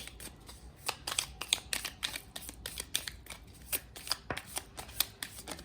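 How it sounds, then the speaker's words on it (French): Shuffled tarot-style cards during a card reading, a quick run of sharp papery flicks and slaps as cards fall, close and crisp in an irregular rhythm with no talking. "il y a plein de cartes qui tombent"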